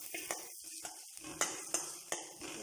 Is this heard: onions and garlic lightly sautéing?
yes